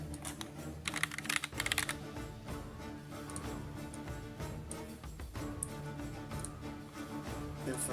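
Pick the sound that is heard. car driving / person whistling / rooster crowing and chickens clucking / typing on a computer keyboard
typing on a computer keyboard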